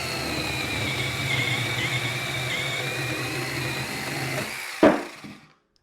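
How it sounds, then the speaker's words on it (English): A SEESII mini chainsaw cuts through a 3-inch cherry log, a steady high buzzing drone held for several seconds before a sharp crack as the cut finishes and the motor winds down into silence. "we'll just see exactly how much time it takes to cut through this log"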